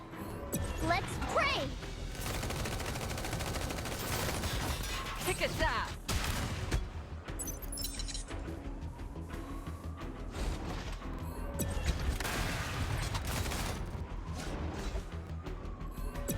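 Mech combat in the video game Mecharashi, with dense bursts of gunfire, missile impacts and crashing explosions piling up continuously, mixed under a person talking.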